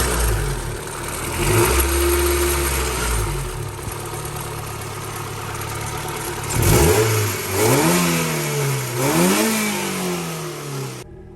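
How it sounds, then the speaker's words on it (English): A 1991 Honda Civic hatchback engine idles with a steady hum, then is revved several times, each rev rising sharply and falling back; loud and close, with no voices. "Give it a couple revs and see how it sounds."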